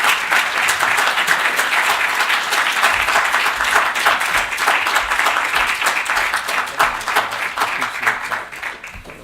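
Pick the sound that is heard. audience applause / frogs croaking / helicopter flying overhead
audience applause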